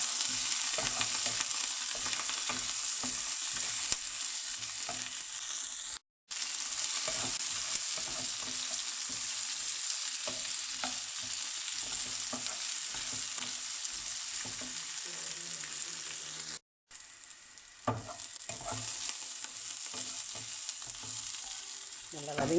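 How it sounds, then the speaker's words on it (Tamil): Continuous sizzling and frying of chopped onions and curry leaves in a hot pan, with intermittent scraping and stirring strokes, close and fairly loud, no talking. "நறுக்கி வச்ச வெங்காயம், கருவேப்பிலை நல்லா வதக்கிக்கணும்."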